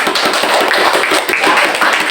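A class of students applauding together in a classroom, dense and steady clapping that fills the whole stretch, loud and close, with no talking over it.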